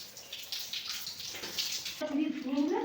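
Water pours and splashes while hair is washed with shampoo in hot weather, a close running splash broken up by a person speaking.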